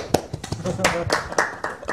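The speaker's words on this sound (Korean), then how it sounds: "우리 팀장님 박수 한번" A short burst of hand clapping for a team leader at a policy meeting, a few sharp claps mixed in with people talking over them.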